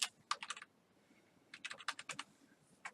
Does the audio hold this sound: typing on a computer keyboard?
yes